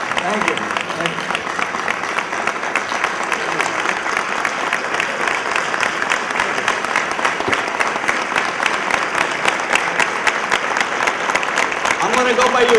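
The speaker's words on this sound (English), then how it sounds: "How about a round of applause for Chief?" Sustained audience applause for Chief at the Chi Chi Conference, dense crackling clapping from a large crowd that continues evenly at strong volume for over ten seconds, with a voice briefly audible near the end.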